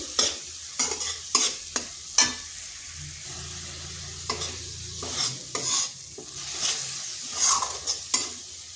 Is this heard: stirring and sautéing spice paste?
yes